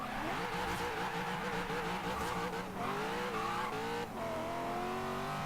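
In Forza Horizon 3, a heavily modified 995 hp Corvette C7 Z06 launches at around 5,000 RPM, its engine holding a high steady whine while the rear tires spin and squeal with no traction.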